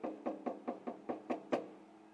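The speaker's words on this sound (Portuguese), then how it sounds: "E foi lá, bater na porta do formigueiro." Knocking on a door as a storytelling sound effect: eight evenly spaced, fairly crisp knocks in a steady rhythm, heard alone with no talk.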